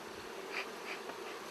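Honeybees buzz around an open, smoked beehive, a steady close hum of many insects with a brief knock at the end.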